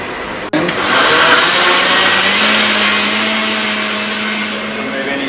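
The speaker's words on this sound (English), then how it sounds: "Place in a blender." A blender kicks on with a click and roars steadily, pureeing softened carrots in a loud, continuous whir that eases slightly toward the end.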